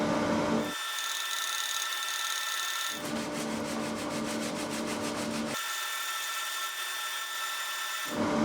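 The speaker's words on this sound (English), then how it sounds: "Out to band sander with this one." A band sander shapes a wooden brace for a guitar soundboard, its motor whining steadily, broken by two stretches of rough grinding as the wood meets the belt, close and loud.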